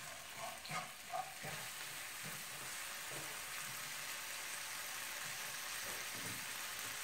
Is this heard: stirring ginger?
yes